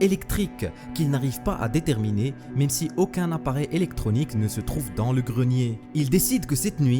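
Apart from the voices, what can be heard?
No distinct noise like a dog, phone or traffic.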